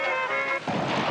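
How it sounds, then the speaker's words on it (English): Ocean waves wash in a seaside scene, a broad hissing surge that swells after a brief tonal hum in the first half, heard alone without voices. "Bart, don't you like the sound of the ocean?"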